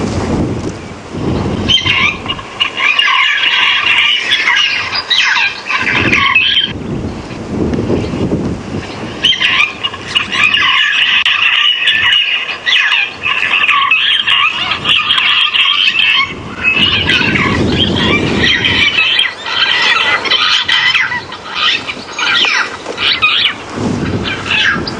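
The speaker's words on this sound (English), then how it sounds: "That was a African fish eagle." African fish eagle calling out on the savannah during a morning game drive at Djuma Game Reserve, loud repeated ringing cries in sustained bursts over a broad outdoor ambience.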